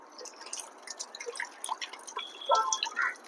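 A dragon fruit is rinsed under water, with a close, steady patter of splashing and irregular drips running through the whole stretch and growing a little louder near the end; no one speaks.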